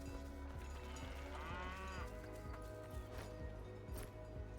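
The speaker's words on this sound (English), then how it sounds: "There's more cows that we can't interact with" Cows moo in the Dungeons of Hinterberg video game: several low bovine calls over a steady game ambience, with one longer drawn-out moo in the middle and faint clip-clop-like steps underneath.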